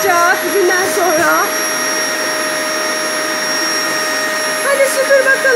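Real household electric vacuum cleaner running loudly and steadily nearby, its constant whine holding throughout while a voice chatters over it at the start and end.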